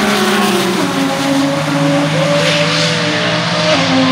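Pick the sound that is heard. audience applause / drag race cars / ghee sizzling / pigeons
drag race cars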